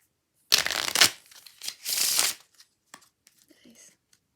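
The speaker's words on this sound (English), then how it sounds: "I'm gonna start by asking Tyler to shuffle the cards." A deck of playing cards is shuffled by hand during a magic trick tutorial, giving two or three close, crisp riffling bursts followed by a few faint taps and rustles.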